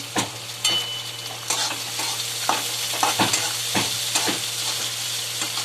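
Onion and peanuts sautéing in a hot pan for fodnicha bhaat, a bright steady sizzle punctuated by repeated spatula scrapes and taps at an uneven pace, close up.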